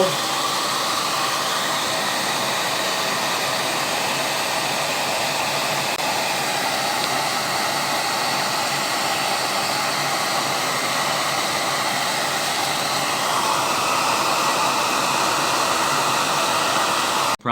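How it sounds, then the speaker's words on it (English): A hairdryer set to low heat blows a steady, loud, unbroken rush of air for the whole stretch, used to dry a damaged dollar store Chinese lantern being aged to look antique. "I've got my hairdryer out"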